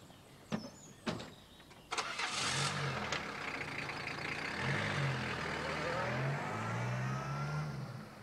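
A car starts after a couple of door thumps, then its engine revs and rises through several gear changes as it pulls away, steady and moderately loud.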